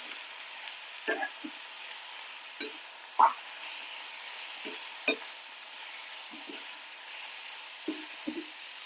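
A spoon scrapes intermittently through a bean leaf thoran stir-fry with garlic and chilli in a pan, giving short, scattered strokes over a faint, steady sizzle.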